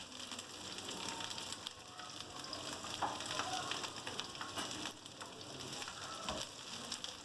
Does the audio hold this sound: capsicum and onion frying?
yes